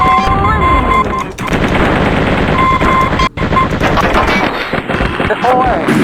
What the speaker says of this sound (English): our cannon just shredded all those thin-skinned vehicles